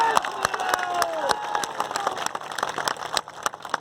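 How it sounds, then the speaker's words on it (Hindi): Crowd at a political rally in Balurghat, West Bengal, clapping and cheering in a loud, dense burst of applause with scattered shouts, sustained throughout. "यह सच हो तो ताली बजाइएगा"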